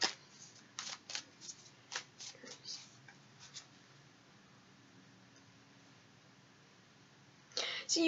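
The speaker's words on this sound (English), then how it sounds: "you see me live shuffling here, okay?" Tarot card deck being shuffled by hand, a run of short crisp riffling bursts and taps up close, then a pause before one more flurry at the end.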